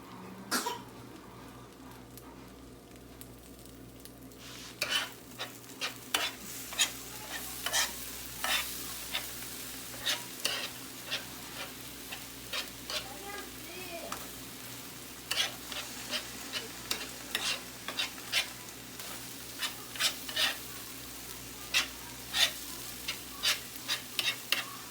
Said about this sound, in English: I am literally cooking eggs with a spatula